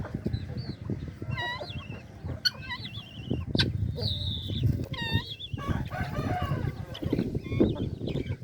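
Several hens cluck and chatter close by while foraging on the ground, with repeated higher squawks and calls overlapping in a busy, continuous flock.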